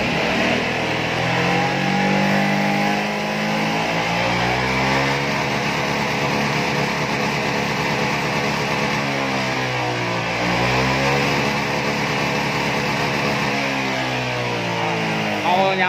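A Yamaha S-Max scooter fitted with a coil booster revs its engine in repeated rising and falling sweeps, loud and close, with the engine note climbing, then easing back and climbing again for several seconds.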